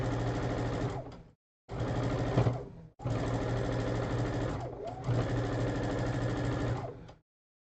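A sewing machine runs steady stitching bursts along quilt seams, four close, even runs of whirring motor and needle rhythm separated by short silent pauses.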